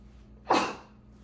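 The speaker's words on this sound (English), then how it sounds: "Excuse me, I just sneezed." A single sharp human sneeze bursts out close and loud, brief and alone against a quiet room.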